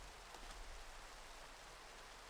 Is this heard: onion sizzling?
no